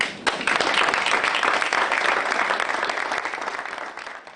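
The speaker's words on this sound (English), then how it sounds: "let me know by a round of applause if you enjoyed yourself today" Audience applause fills a breakfast business event with a technology keynote, a dense, steady wash of many hands clapping close and loud for about four seconds, slowly tapering toward the end with no talk over it.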